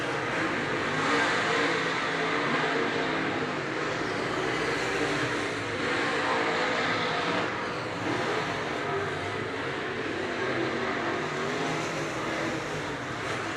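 Modified stock cars race at Cedar Lake Speedway, a dense, continuous roar of engines from several cars with rising and falling passes, loud and sustained throughout.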